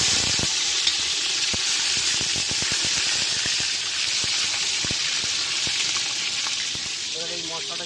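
Tomato dropped into hot oil in a pan with ground ginger paste gives a loud, steady frying sizzle throughout, broken by faint clicks and scrapes of a utensil.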